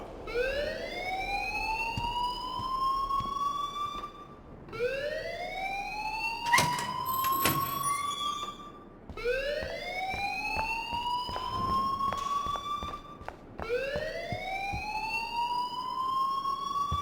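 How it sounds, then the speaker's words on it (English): A school alarm in the video game Life is Strange wails in four long rising sweeps of about four seconds each, loud and continuous, with brief clicks between cycles and no talk. "please turn off that alarm since that's your job"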